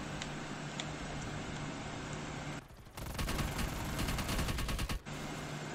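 Rapid bursts of automatic gunfire from a zombies video game, dense and continuous for several seconds with a brief gap, loud and close with no talk over it.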